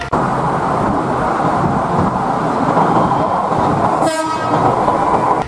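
A steady, loud rushing roar of a high-speed train passing close by, with a brief high-pitched whistle or horn burst partway through.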